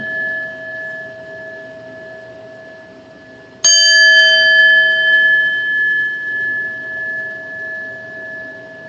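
A chime bell strikes once and rings out with bright, sustained tones that slowly fade over a steady low hum, with no talking.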